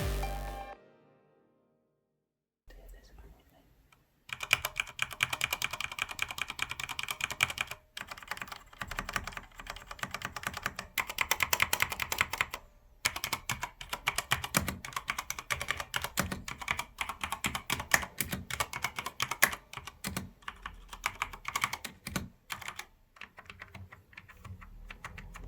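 Mechanical key switches clatter on a Corsair K70 SE MK2 keyboard, a steady run of close, fairly quiet typing with brief pauses and no voices.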